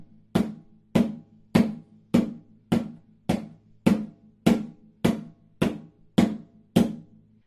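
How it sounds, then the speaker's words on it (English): Twelve muffled, closed hand strokes on a drum land at an even, steady pulse, each one short and dead with no ring. They sound alone with no talk. "So the muffled tone looks and sounds like this."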